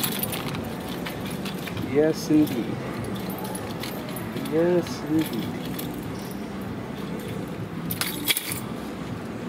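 A key jabs and tears open a plastic package of Feltman's hot dogs beside a grill, with a few short metallic jangles and crinkles close by while someone talks.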